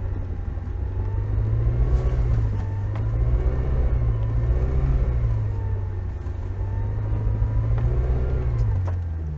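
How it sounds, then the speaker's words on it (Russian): A Lada Niva 4x4 on mud tyres with locking differentials revs hard while stuck in mud, a loud, close, steady engine roar whose pitch rises and falls in waves as the wheels spin. "Стоим, буксуем. Больше газа."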